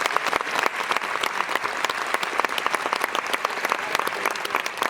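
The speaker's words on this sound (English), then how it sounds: "Let's give both Mackenzie and Tim another round of applause" Lively applause from graduates and faculty at a nursing college commencement ceremony, many hands clapping with sharp distinct claps, fairly close and loud, continuing without speech.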